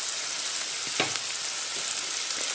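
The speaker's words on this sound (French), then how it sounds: "Je vais quand même laisser dorer un peu l'oignon." Onion browning in a pan before turkey goes in, a soft continuous sizzle with a brief sharper crackle near the middle, no voices.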